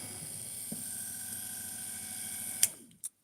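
A drill bores out a rivet in a steady, close whirring run with a constant high whine, ending with a brief squeal as the bit breaks through and a short clack afterward.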